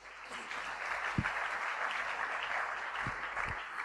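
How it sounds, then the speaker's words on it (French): A church congregation applauds together, a steady even wash of clapping that holds for the whole stretch, with a few heavier low thumps breaking through, and no voices rise above it. "Acclamons la parole du Seigneur"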